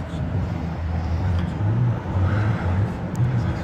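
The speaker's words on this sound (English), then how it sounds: "the remote start works. So the vehicle is running." 2009 GMC Denali engine runs after a remote start, a steady low idle hum heard from inside the vehicle, moderately loud and unbroken, with no talking.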